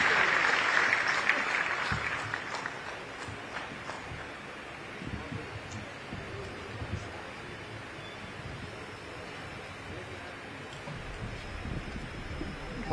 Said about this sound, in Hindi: जोरदार तालियों के बीच स्वागत कीजिए परमादरणीय श्री नितिन